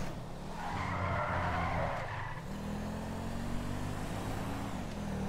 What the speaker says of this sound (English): 1500 horsepower drifting machine